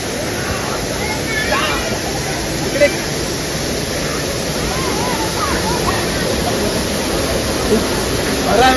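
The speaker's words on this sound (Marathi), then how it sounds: "नदी आहे ही" Broad rushing roar of river water at a jungle waterfall, loud and continuous, with people talking over it.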